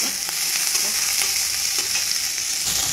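Large onions sizzle in hot oil with a dense, continuous frying hiss, close up and steady, with occasional soft stirring scrapes and no one talking.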